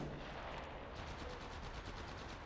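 Rapid gunfire from Apex Legends Mobile battle royale gameplay, a dense stream of quick shots under a constant noisy game mix, fairly faint overall and without speech.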